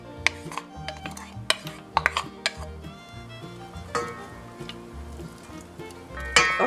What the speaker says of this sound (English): And now I'm going to add the cup of onions.